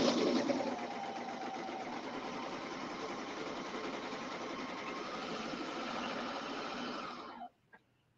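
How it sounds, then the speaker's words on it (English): A Brother Airflow serger runs a test stitch on heavy outdoor home decor fabric, giving a fast, steady mechanical whirr that holds evenly for about seven seconds and then stops abruptly, followed by a small click. "I'm going to do a test stitch"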